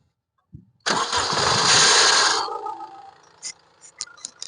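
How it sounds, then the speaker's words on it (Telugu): A 2015 Honda Mobilio diesel cranks briefly and catches on a single self-start, roaring loudly at close range before settling into a lower idle with a few sharp clicks. "సింగిల్ సెల్ఫ్ లో అయితే బండి స్టార్ట్ అవుతుంది సార్"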